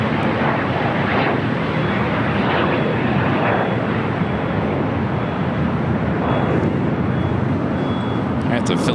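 Philippine Airlines Boeing 777 taking off from LAX runway 25 right, a loud sustained jet engine roar with broadband rumble, while a radio voice talks over it.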